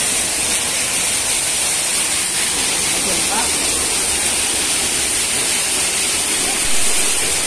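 Bambi Falls, a waterfall in Negros Occidental, pours in a steady, loud broadband rush that fills the scene without pause, close by and unbroken throughout.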